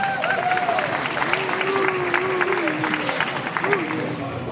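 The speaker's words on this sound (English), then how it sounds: "I think this deserves another round of applause" An audience at Comic-Con Holland claps in a sustained round of applause, dense and steady, with a few voices and cheers mixed into the crowd.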